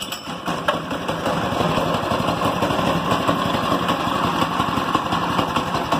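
A rusty Blue Streak go-kart's small engine runs after a cold start, idling with a loud, steady, rapid putter that holds constant throughout without pauses.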